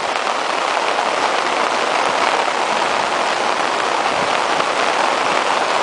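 Rain falls on Santos beach in Brazil as a dense, steady hiss, loud and unbroken throughout, with no voices.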